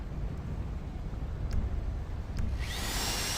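A power drill in a roleplay video game whirs up late in the clip, a bright high-pitched whine rising over a steady low background rumble.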